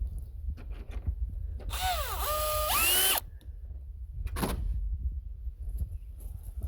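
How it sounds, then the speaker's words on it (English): A power tool whirs in two short bursts while backing out a 10mm headlight bolt on an FG Ford Falcon, with the pitch sweeping as it spins. Quiet workshop handling noises come before and after. "So now remove this first light bolt, holding the light in."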